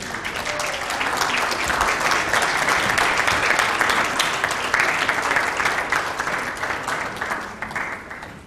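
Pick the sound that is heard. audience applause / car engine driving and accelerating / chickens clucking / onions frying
audience applause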